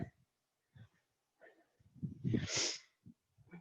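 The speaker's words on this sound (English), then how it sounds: "Keep blowing my nose." A short, forceful nasal blow bursts out after a few soft breaths and murmurs, close and loud, then quiet breathing resumes.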